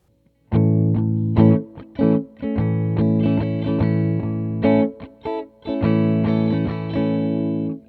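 Distorted electric guitar chords strummed in a fast, choppy sixteenth-note rhythm, with brief muted gaps between bursts, played alone and up close.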